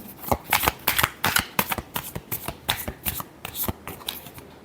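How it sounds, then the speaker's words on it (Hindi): A deck of tarot cards riffles through repeated shuffles, a close, crisp burst of flicking and snapping in quick uneven pulses, heard alone without talk. "last shuffle"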